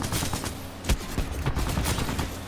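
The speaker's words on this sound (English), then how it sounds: "I'm running around with the alternator submachine gun" The Alternator submachine gun from Titanfall 2 fires rapid bursts of shots, a dense, loud, close stream of gunfire with brief sharp peaks and no talking.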